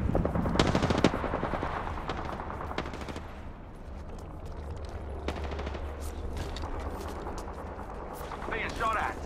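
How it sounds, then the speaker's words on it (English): Automatic weapons fire in the video game Apex Legends, with loud sharp bursts near the start, sporadic shots through the middle and rattling gunfire again toward the end, under game voice lines and background battle noise. "Being shot at."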